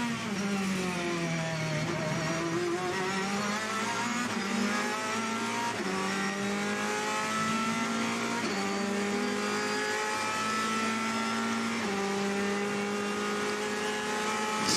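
A Ferrari race car at Le Mans roars through a long downshift, the engine note stepping down in pitch several times and then pulling again, loud and continuous with no talk.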